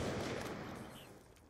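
A gunshot rings out in a first-person shooter game, a sharp blast whose echoing tail fades over about a second and a half, fairly quiet and without talk.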